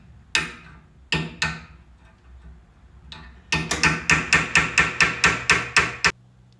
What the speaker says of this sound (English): I'm going to use this chisel end to get this somewhat mushroom part down a little bit more